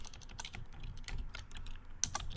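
Rapid, uneven keystrokes on a computer keyboard while writing a Python code comment, close and fairly quiet, with a slightly louder burst of taps near the end.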